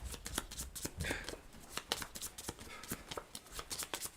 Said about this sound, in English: That was all the alert cards, so those get shuffled back up again.